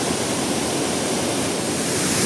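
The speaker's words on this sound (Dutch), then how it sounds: "En nou een mooie waterval" A waterfall in Dalat, Vietnam, roars as a steady, dense rush of falling water, close and constant for the whole stretch, with no voices over it.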